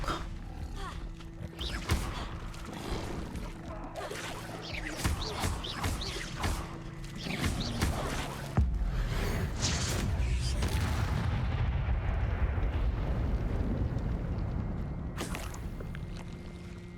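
An Incendio fire spell is cast during combat in Hogwarts Legacy: crackling effects and thuds give way to a sustained, loud whooshing roar of flame lasting several seconds before it fades.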